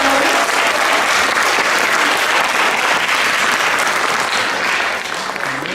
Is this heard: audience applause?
yes